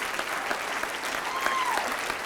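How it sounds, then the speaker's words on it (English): A large conference audience applauds warmly, a dense, continuous patter of many hands clapping at steady volume, with a faint whoop rising briefly partway through. "give yourselves a warm round of applause"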